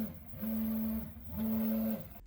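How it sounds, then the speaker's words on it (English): A 3D printer printing robot parts, its stepper motors whining in two sustained tonal passes separated by a short pause, close and alone. "Satisfying printer noises."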